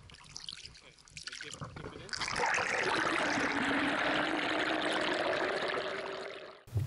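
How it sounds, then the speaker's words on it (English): Canoe paddling on a river during an easy, leisurely outing, with steady water rushing and pouring around the hull that swells after a quieter opening with voices, then holds loud and continuous. "Easy, leisurely paddle along the way."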